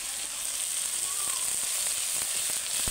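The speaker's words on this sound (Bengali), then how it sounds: "আমার টমেটো পেঁয়াজ আদা রসুন ভালো করে ভাজা হতে হতে" Ginger-garlic paste fries with chopped tomato and onion in a pan, giving a steady, close hiss of sizzling oil with a few light clicks from stirring.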